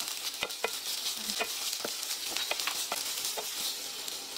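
Carrot and onion sautéing in a little oil, a bright continuous sizzle with scattered small scrapes and taps of a stirring utensil, close and without talk.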